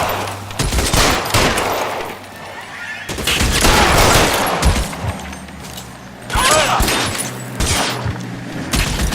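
Gunfire shootout in L.A. Noire Remastered, with loud, dense bursts of rapid shots and heavy impacts repeating throughout.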